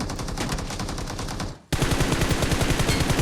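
Rapid automatic gunfire from the mobile battle royale game PUBG Mobile, a dense sustained burst that briefly dips and then resumes just as loud and rattling.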